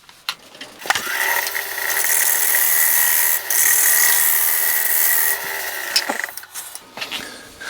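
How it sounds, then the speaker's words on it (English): A gouge cuts a wooden bowl spinning on a lathe, giving a steady, close, high-pitched scraping hiss for several seconds, with softer taps and scrapes before and after the main cut and no talking. "I was actually taking the gouge, and I have rotated it so the flute is pointing at the bowl"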